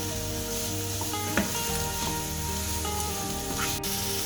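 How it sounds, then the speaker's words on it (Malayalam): Onion sizzling steadily in hot oil in a pan, a loud continuous crackle with a few small pops and a light stir near the middle; no voices. "പാനിലേക്ക് എണ്ണ ഒഴിച്ച് എണ്ണ ചൂടായി വരുമ്പോൾ സവാള ചേർത്ത് കൊടുക്കുക."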